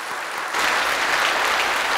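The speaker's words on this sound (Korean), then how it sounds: "박수만 치지 말고 소리 좀 내보십시오" A church congregation applauds retiring members, with dense, steady clapping swelling up after a brief softer start and filling the room.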